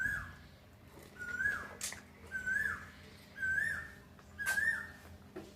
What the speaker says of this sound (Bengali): কোকিল ডাকছে, শুনতে পাচ্ছ?